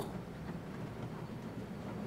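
A roller coaster train climbs the lift hill in the NoLimits 2 coaster simulator, giving a steady, low rumbling rattle that holds at an even level throughout.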